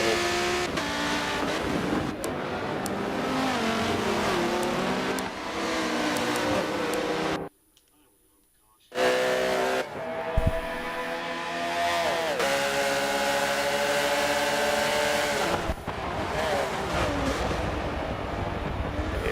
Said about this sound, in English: Braking in the last corner, the front two, Porsche.